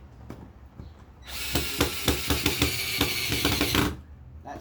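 A power drill drives a screw into a ceiling light box, whining loudly for about two and a half seconds with rapid pulsing bursts before it stops.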